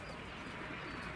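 Pigeons at a rural bird-keeping yard coo low and muffled for a moment against a thick, steady background hum.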